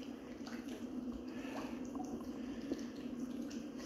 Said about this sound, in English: Sounds like there's running water or something under us.